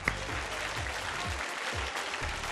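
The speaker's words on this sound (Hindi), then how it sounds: "आप सब के लिए भी मेरी बहुत बहुत तालियां हैं" Studio audience applause on a televised contest show's semi-final episode, a continuous wash of many clapping hands heard at moderate level, steady and unbroken with no talk over it.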